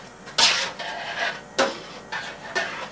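Several scraping, clinking strokes of a deep-frying spoon stirring pasta with oil in a pan, irregularly spaced, close and fairly loud with quiet gaps between.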